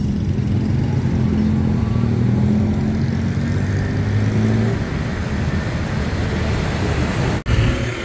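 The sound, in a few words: road traffic on a street in Bangkok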